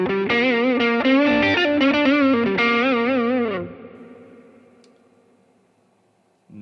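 An electric guitar runs through the BIAS FX amp simulator on an iPhone, strumming distorted blues chords with chorus-like shimmer for a few seconds before letting the last chord ring and fade away.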